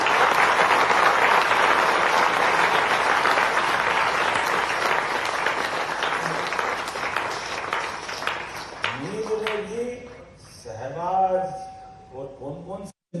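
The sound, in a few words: audience applause in honour of the army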